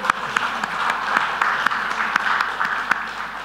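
An indoor audience gives a steady round of applause, a continuous even patter of many hands with a few louder individual claps standing out, and no talking over it.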